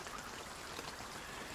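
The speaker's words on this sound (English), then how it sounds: "Heavy rain." A heavy rain weather effect in a video game under development plays as a faint, steady hiss of rainfall, with no voices and no change in level across the short stretch.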